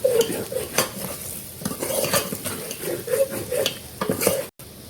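Mutton curry cooked without oil being stirred in a pot, with repeated scraping spoon strokes and clinks against the metal over a soft sizzle, close and fairly busy throughout.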